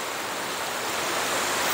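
River water flowing in a forest camp swimming spot in the Philippines: a steady, broad rushing wash that stays even and loud throughout, nearby, with no voices.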